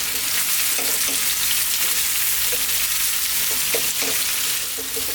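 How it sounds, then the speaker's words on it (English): Parboiled potato chunks fry in a pan over high heat with a steady, loud sizzle, broken by a few sharper clacks and scrapes as they are tossed around, with no talking. "Let's throw these around in the pan for like 3 to 4 minutes"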